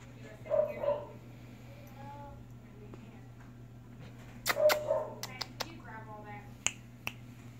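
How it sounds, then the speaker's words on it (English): A small vicious dog gives a few short, sharp barks and yips in quick bursts, close by, over a steady low hum with a few brief clicks. "Little vicious dog."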